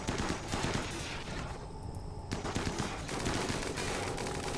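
Rapid gunfire in the video game RimWorld during a fight with a giant centipede, dense bursts of automatic shots and impacts that run almost continuously, loud and close, with only a brief lull midway.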